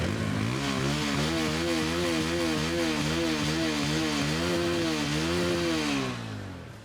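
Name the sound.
Bajaj Pulsar P150 motorcycle exhaust note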